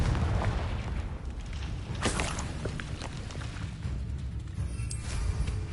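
Spell explosions from Confringo and Bombarda in the Hogwarts Legacy game: a dense run of muffled booms and crackling bursts, with one sharper blast near the middle, at moderate level and without talking.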